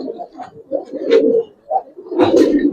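Giribaz pigeons in a loft coo close by, with several rolling, throaty coos in short bursts and brief gaps between them.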